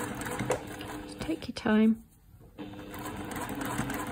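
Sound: sewing machine top stitching a linen apron

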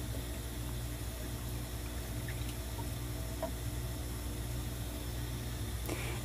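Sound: water filling consolidation test cell

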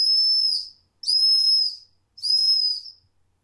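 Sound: whistle on a multitool fire steel

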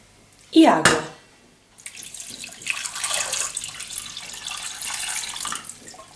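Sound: water being added to a cooking pot

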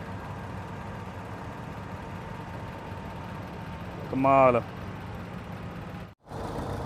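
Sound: engine of an old Massey Harris tractor from Canada

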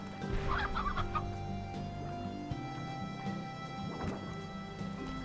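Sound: chickens clucking in the video game Slime Rancher

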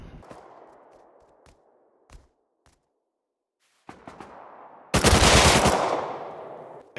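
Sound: AK rifle firing in video game Rust

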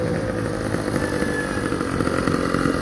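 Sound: small two-stroke motorcycle engine

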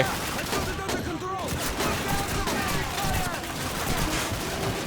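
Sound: gunfire in Call of Duty 2 video game

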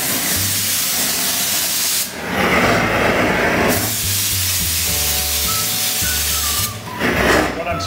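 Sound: spraying

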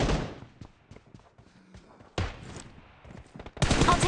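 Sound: gunshots in the video game PUBG Mobile

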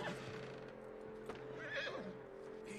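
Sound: horse neighing in video game Red Dead Redemption 2

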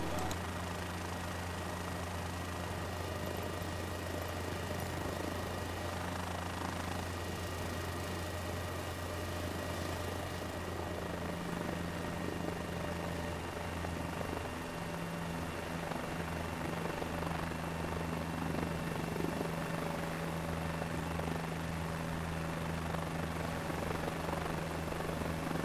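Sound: Guimbal G2 helicopter taking off

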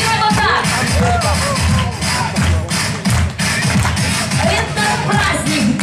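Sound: applause, audience clapping along at a graduation party

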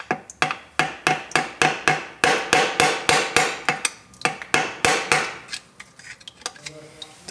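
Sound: hammer striking a small ratchet to loosen a tight plug

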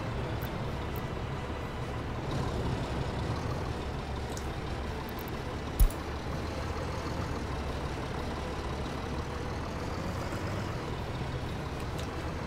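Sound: dump truck in video game Workers & Resources: Soviet Republic

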